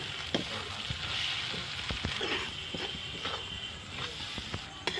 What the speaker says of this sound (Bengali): টমেটো মশলা কষা হয়ে গেছে